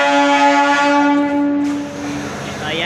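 A passenger train pulling into Nirmali railway station in Bihar at night sounds a loud, sustained horn for about two seconds over rumbling rail noise.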